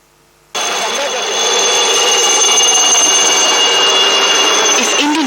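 A helicopter sound played over loudspeakers at a talk about the Kargil War, cutting in suddenly as a loud, dense, steady roar with a whining tone that holds for several seconds.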